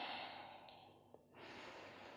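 Steady audible breath with a soft hiss drawn through a constricted throat during a Vinyasa yoga flow, one long exhalation giving way to a brief pause and a new breath, close and quiet over light room noise.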